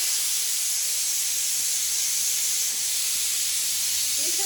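A pressure cooker on a home stove vents steam in a loud, steady, high hiss that runs unbroken throughout, close to the listener, with no voices.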